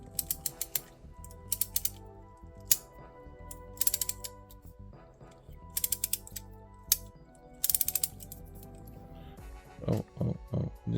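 A DuraTech double 25-degree offset reversible ratcheting wrench clicks quietly in quick bursts, the pawl ticking in short runs with pauses between as it is worked in both directions.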